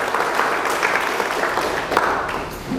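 Loud crowd applause for an organic farmer at a gathering of an organic farmers' producer company, dense steady clapping sustained throughout without a break.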